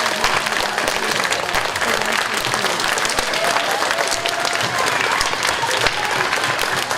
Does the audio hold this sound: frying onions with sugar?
no